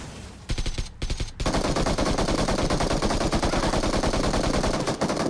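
Sustained automatic gunfire in PUBG Mobile, a loud rapid stream of shots that starts after a few single cracks and runs continuously to the end.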